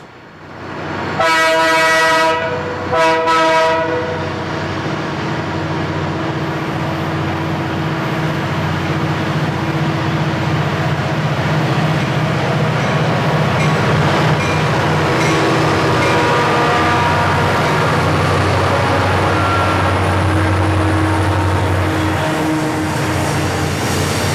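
A BNSF eastbound freight train at Paxton sounds its horn in a few loud blasts, then rumbles past steadily for a long stretch, with no talk.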